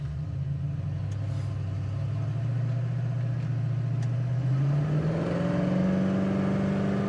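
A 1968 Ford Mustang California Special engine drones steadily while driving, its pitch rising gradually as it picks up speed, loud and close.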